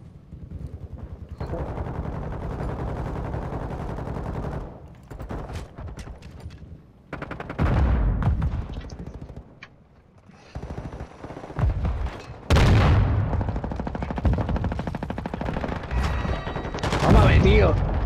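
Heavy machine gun fire from Call of Duty: Modern Warfare II, coming in loud, dense bursts with short pauses between them, backed by other combat noise and a voice talking now and then.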